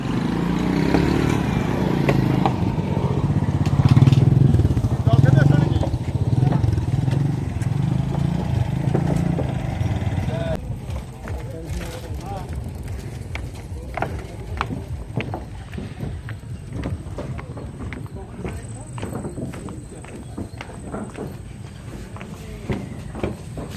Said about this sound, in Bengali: চলছে আমাদের ট্রলার ছাড়লো